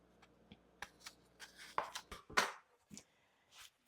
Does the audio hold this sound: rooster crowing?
no